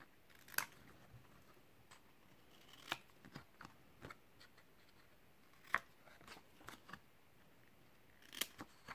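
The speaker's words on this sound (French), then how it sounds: "Là, il y en a une paire petit ciseau, hop, on épointe les angles" Small scissors snipping the corners off a paper card envelope for scrapbooking, a series of sharp isolated cuts and clicks spaced irregularly across a quiet background.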